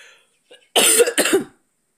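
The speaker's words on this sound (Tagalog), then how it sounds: "Ubo na lang man guys." Two sharp coughs close together, loud and close, after a moment of near silence with faint breathy sounds.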